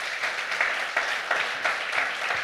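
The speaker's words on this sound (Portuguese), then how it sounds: "Você está alegre? Você está feliz? Então aplaude a Jesus mais uma vez." Church congregation applauding Jesus at a Sunday service, a steady moderate wash of clapping with small swells, somewhat distant and even throughout.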